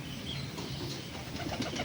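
Soft pigeon cooing murmurs through a continuous low background, with faint rustling and no voices.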